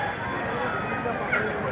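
Roosters at a busy village poultry market selling ducks and chickens, with crowing and clucking mixed into dense crowd chatter and market noise, heard briefly and fairly close.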